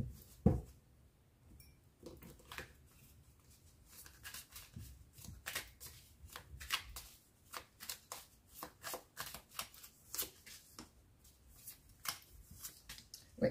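Tarot cards are shuffled and drawn by hand, a quiet run of close, crisp riffling flicks and soft card slaps coming in irregular bursts, no talking.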